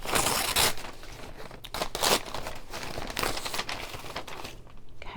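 Embroidery stabilizer being peeled off a machine-embroidered burp cloth, giving continuous crinkly tearing and rustling, close and fairly loud, with a few brief louder rips.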